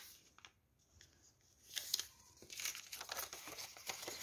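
Colored paper folded by hand, crinkling and creasing rustles close up, quiet at first then building into a louder stretch of crumpling and pressing toward the end.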